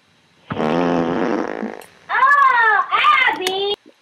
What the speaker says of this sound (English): He going to fart in her goddamn face.